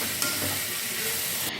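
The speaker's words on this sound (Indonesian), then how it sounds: "Kemudian aduk lagi sebentar." Pastel ragout filling sizzles and fries in a pan while being stirred, a steady close hiss with faint scraping throughout.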